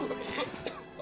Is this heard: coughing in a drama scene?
yes